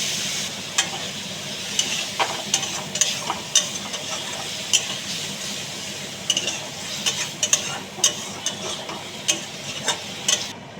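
Capsicum and potato being stir-fried with a splash of water in a pan: continuous low sizzling under repeated sharp scraping taps of a spatula against metal, close by, in an uneven rhythm throughout.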